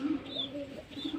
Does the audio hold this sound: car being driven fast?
no